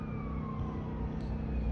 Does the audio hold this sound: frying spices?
no